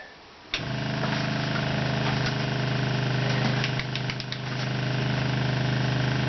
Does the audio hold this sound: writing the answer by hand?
no